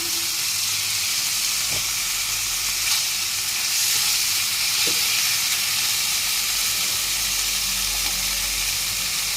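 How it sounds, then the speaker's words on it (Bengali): Chital fish curry masala, cooked down with three fried potatoes, sizzles and hisses steadily in a pan after water is poured in, a constant loud frying wash with a few faint clinks and taps, no voices. "এবার মশলাটা কষানো হয়ে গেছে এবারে জল দিয়ে দিলাম"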